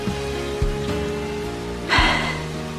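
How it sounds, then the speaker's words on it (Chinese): Heavy rain pours steadily, a dense continuous wash with a swell of louder splashing near the end and a few low thuds underneath. "女君，这雨是越下越大了"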